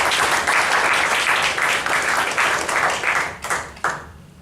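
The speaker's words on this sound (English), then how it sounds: "Let's have a round of applause for Adrienne and our panelists." Dense audience applause, loud and sustained, fading out with a few final scattered claps near the end.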